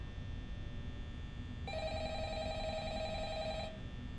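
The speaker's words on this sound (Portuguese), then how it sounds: "Telefone tocou." A telephone in the horror video game Five Nights at Freddy's rings with a steady electronic trill that starts partway through, holds for about two seconds and then stops, over a low background hum.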